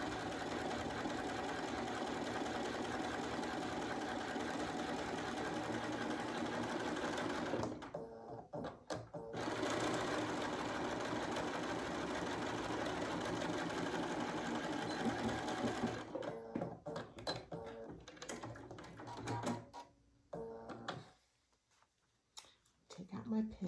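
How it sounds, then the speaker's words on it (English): A sewing machine fitted with a quarter-inch foot stitches fabric in a long continuous run, close and steady, then stops and starts in short bursts before falling quiet near the end. "I'm just going to sew all the way down with my 1/4 inch foot"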